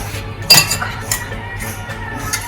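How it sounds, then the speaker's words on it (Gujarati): A spoon stirs ghee into a warm peanut sweet mixture in a metal pan, giving a sharp metallic clink followed by softer scraping and a few light taps. "તો હું અહીંયા ઘી એડ કરીશ, મિક્સ કરી લઈશ."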